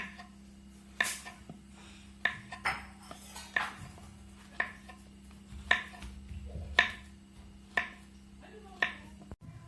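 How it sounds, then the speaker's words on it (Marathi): A knife slices a whole banana into rounds, about eight crisp, evenly spaced cuts ringing out close by over a steady low hum. "मी पूर्ण आणि चाकून असं गोल गोल कापून घेणार आहे"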